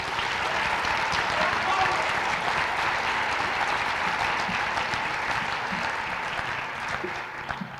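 Audience at a teacher of the year awards ceremony applauding and cheering, a loud, sustained wall of clapping that tapers slightly near the end, with voices mixed in.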